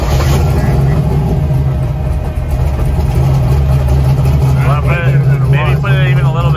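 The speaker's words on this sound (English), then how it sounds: "the car is running and started up better" Drag race car engine running steadily after a crank sensor adjustment on the balancer magnets, a loud continuous low rumble at a near idle with voices talking over it.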